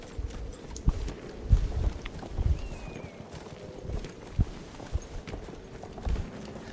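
Horse hooves clip-clop in a Sinai desert battle in Battlefield 1, irregular thuds at moderate distance under light wind and game ambience, with no talk.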